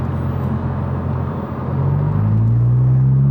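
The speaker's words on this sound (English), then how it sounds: "now you hear the exhaust" A car exhaust rumbles low and deep as the engine coasts off throttle, the drone swelling louder and steadier toward the end.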